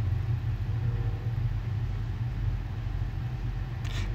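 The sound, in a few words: 1993-1997 Ford Ranger pickup driving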